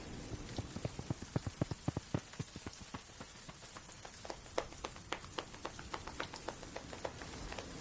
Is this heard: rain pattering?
yes